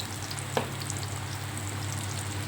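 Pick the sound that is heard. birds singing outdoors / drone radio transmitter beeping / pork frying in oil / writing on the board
pork frying in oil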